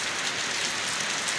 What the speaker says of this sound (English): Outside is okay, but the problem is raining.